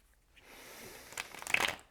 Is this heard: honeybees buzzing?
no